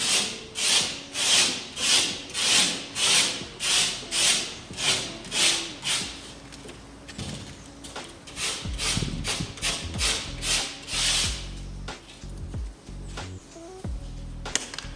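A rough edge is rasped or sanded off a weathered, bent wooden board for a chicken coop, with about a dozen steady rhythmic rubbing strokes up close, then slower scraping and knocking as the work shifts.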